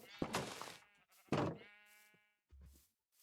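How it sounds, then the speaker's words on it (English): Two or three close Minecraft sheep bleats, wavering and nasal, separated by brief silences, with a soft thump near the end. "I will eat this sheep"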